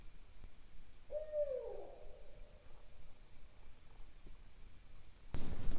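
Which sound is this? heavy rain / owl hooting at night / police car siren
owl hooting at night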